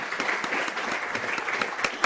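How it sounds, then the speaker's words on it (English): Audience members at a water sustainability lecture applaud the presenter Richard, a steady wash of many hands clapping together at moderate volume, with a few sharper individual claps poking through the sustained roar. "And final round of applause for Richard."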